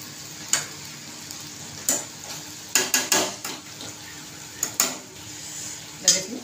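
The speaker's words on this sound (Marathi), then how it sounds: "भाजी तेलात परतणं फार महत्त्वाचं आहे" Eggplant and potato sauté in oil in a pan, with a low sizzle underneath and about a dozen sharp metallic scrapes and clinks of a spoon stirring against the pan, irregularly spaced.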